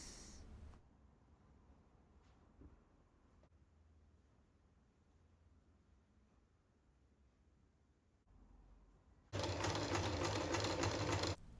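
A sewing machine stitches a strip onto a Union Flag, starting abruptly near the end as a loud, steady mechanical whir after a long stretch of quiet room sound.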